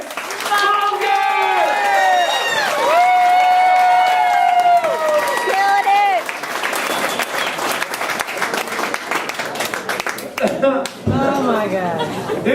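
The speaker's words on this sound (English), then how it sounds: "Everybody, please give a big round of applause for Kris Monger!" Comedy club audience clapping and cheering as a stand-up comedian is introduced, loud dense applause with whoops and shouts, overlapped early by a sustained sung or shouted voice, then continuing as mixed clapping and crowd chatter.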